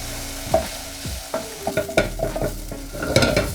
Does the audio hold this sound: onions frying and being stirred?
yes